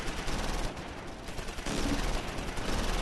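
Dense gunfire from the World War II video game Close Combat IV: a continuous, loud crackle of rapid shots and bursts with no pauses.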